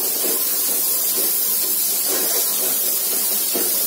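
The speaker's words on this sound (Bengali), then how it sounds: "সেই 1 কাপ পেঁয়াজ আমি এখানে দিয়ে এটাকে ঠিক বেরেস্তা হওয়ার আগ পর্যন্ত আসলে এটাকে ভাজবো" Chopped onions with a pinch of salt fry in hot oil toward a crisp, browned stage, giving a steady, dense hiss and crackle that stays even throughout, with no voices.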